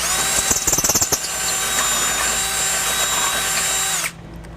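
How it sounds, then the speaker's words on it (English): Power drill running a large bit through metal to make a bolt hole for a trailer hitch on a 1988 Toyota 4Runner, a loud continuous whine with stuttering bursts early on, stopping abruptly near the end. "Now we have the largest bit we're going to use. This is going to make it the perfect size for our bolt."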